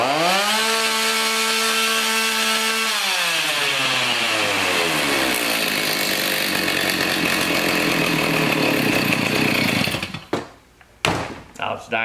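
A garbage-picked chainsaw, running hot, roars loud and close on high idle, its engine pitch climbing and holding a steady buzzing whine before cutting out into sputters and rattling clunks near the end.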